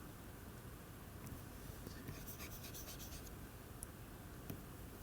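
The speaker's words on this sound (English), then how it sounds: "let me write it properly now" A pen scratches faintly across a writing surface during a physics lecture, with soft intermittent strokes and taps over a steady low background hiss, no voices.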